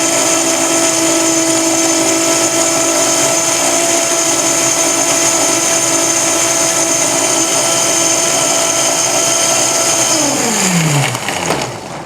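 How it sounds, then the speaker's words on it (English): A powerful blender roars at a high, steady pitch, then winds down as the motor slows near the end. "I'm just amazed at this blender"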